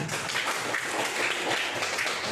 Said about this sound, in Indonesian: tepuk tangan dulu buat kelompok 2